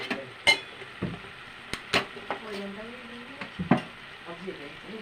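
Drumsticks fry with chilli powder in a pan, a soft sizzle broken by sharp scrapes and clacks of a spoon stirring, close by, with a few words of speech over it.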